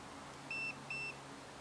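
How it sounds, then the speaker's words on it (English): A fishing bite alarm on a rod set up at a syndicate lake gives two quick, high electronic beeps close to the microphone, with no talking. "let's get it on the bite alarm"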